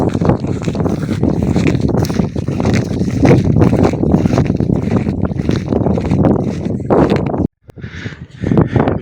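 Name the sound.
strong wind outdoors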